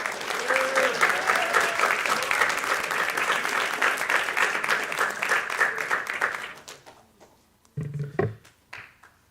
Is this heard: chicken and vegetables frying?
no